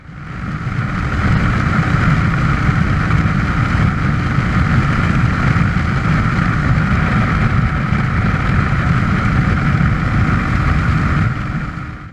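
A Suzuki DR350S motorcycle engine drones steadily and loudly at close range for the whole stretch, a dense mechanical hum with no clear rise and fall in pitch.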